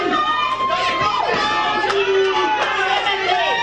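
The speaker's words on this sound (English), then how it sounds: "A lot of people cheering for smoking guy" A radio studio audience at a Kings fan contest on Sacramento's Talk 650 KSTE cheers and shouts for a contestant, a busy mix of overlapping voices and calls close by, with people talking through it.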